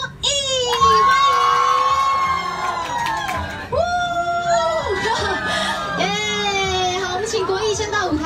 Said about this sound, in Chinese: 我们一起用最热烈的掌声加尖叫，欢迎偶像剧男神李国毅